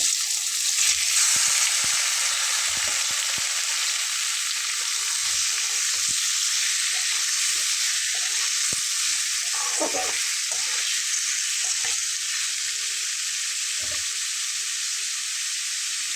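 Papaya frying in a pan gives a bright, constant hiss of hot oil, with scattered soft scrapes and taps as it is stirred, close and steady, no talking.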